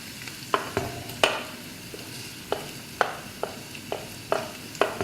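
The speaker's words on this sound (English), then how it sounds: "we'll give it a stir just to toast the spices" Turmeric, coriander and chili powder frying with onions for a masala chicken curry, stirred with sharp spoon knocks against the pan at irregular intervals over a low continuous sizzle, close up and without speech.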